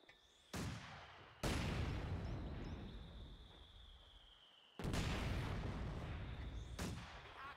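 Mortar barrage in the Company of Heroes 2 video game: four heavy booming blasts land at uneven intervals, each followed by a long rumbling decay, with no voices.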